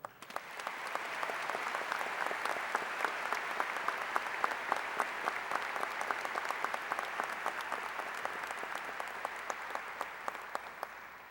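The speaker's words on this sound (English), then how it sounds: "Will you please join me in the class of 2005 in a well-deserved round of applause for our faculty" High school graduation crowd applauding the faculty at a 2005 senior commencement, a large, sustained roar of many hands that swells quickly and holds steady for seconds, with sharper nearby claps standing out.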